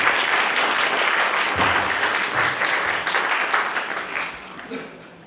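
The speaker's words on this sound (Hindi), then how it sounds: "साथियों, मैं आपसे गुजारिश करूंगा कि जोरदार तालियों से सभी सम्मानित लोगों का स्वागत करें।" An audience at a stage theatre event claps loudly to welcome honoured guests, a dense burst of applause that gradually thins and fades toward the end.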